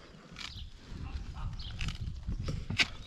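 A mare being fitted with a harness, with hoof clops, shuffling and tack handling nearby, and soft voices murmuring in the background.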